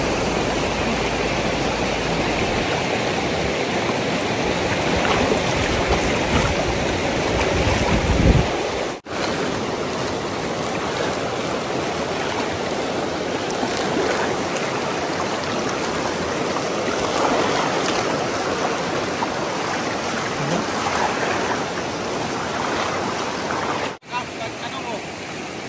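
Outdoor river stream, water flowing steadily over the riverbed at close range, a continuous broadband rush lasting throughout with a short soft break near the middle.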